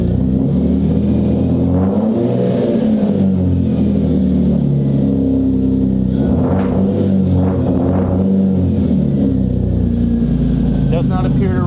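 A Lexus GS300 car engine runs loudly and steadily, with a few revving surges partway through, while a person talks over it.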